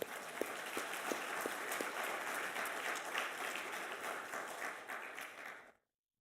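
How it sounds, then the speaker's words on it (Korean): Applause from a church congregation at a Sunday worship service: sustained, fairly even clapping from many hands that carries on for several seconds, then stops abruptly. "우리 박수로 하나님께 영광을."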